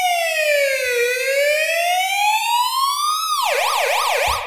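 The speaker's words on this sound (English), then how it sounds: "You might not even want it for a police siren." A synthesized police siren sound effect rises and falls in long smooth sweeps, then switches to a fast warbling yelp, loud and close with nothing else heard.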